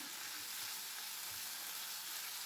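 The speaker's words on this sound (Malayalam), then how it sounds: "ഒന്നുകൂടെ മിക്സ് ചെയ്ത് വഴട്ടിയെടുക്കുക" Fish pickle masala sautéing in a pan, heard as a steady, even sizzle of frying with faint stirring scrapes underneath, close and continuous with no talk.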